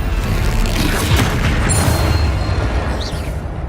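In the Hogwarts Legacy video game, a Bombarda blasting spell sets off a loud, rumbling explosion that rolls on as one continuous wall of noise for several seconds during a fight with a troll.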